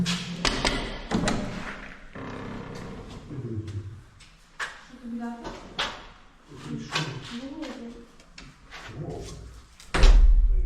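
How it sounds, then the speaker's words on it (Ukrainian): A visitor knocks on an apartment door under renovation, a few sharp thuds standing out among voices and background noise, with a louder knock near the end. "Постукаємо."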